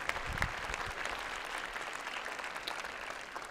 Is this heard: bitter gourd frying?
no